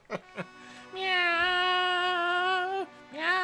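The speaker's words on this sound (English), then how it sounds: "it's an actual cat! He's not gonna be singing, he's gonna be meowing the words." Cat meows sung out as opera lines in Final Fantasy 6 (Beyond Chaos randomizer), at Kefka's opera scene: two short chirps, then a long, sustained, wavering meow and a final rising call.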